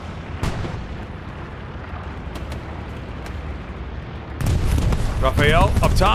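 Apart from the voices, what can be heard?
bombing run explosions in video game Hell Let Loose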